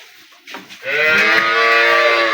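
Holstein Friesian cow at a cattle market letting out a single long, loud moo that swells after a short breathy start and holds steady, close up with no talk.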